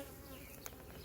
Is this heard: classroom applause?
no